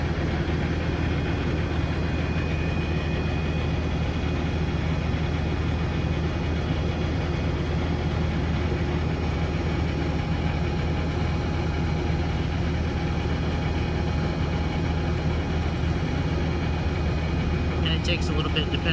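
A CNG engine idles steadily until its fuel runs out, with a low, even hum and droning tones, holding a constant level throughout with no clear voices.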